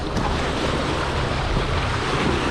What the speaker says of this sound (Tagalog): medyo maingay na yung dagat